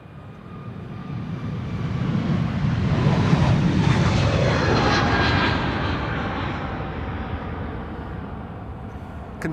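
A JetBlue Airbus A321neo at Amsterdam Schiphol Airport gives off a broad engine roar that swells to a peak around the middle, then fades slowly as it moves off, with no voices.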